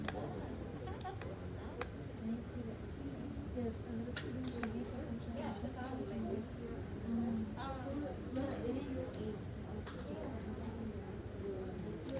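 Scissors snipping through a heart during a classroom dissection, sharp faint clicks scattered among steady chatter and background voices.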